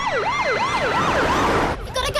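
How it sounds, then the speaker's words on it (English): An ambulance siren wails in loud, repeated rising and falling sweeps, close by, then cuts off abruptly and gives way to a brief clatter of other noise. "we've called an ambulance to take him to the hospital"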